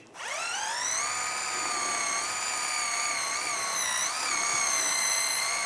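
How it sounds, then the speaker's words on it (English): A powered wire brush scrubs rust off a Volkswagen Beetle front wheel hub, making a loud, steady high-pitched whine that spins up quickly and holds nearly constant for several seconds. "I'm just going to take a wire brush and just clean any of the rust areas just around the lip."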